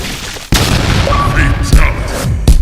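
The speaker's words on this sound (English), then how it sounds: "Nobara's head literally detonated from the inside" Anime sound effect of a head detonating from the inside: a sudden loud boom bursts in after half a second and rumbles on, with voices and further impacts over it.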